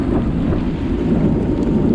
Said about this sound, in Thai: ฝนมาซะก่อน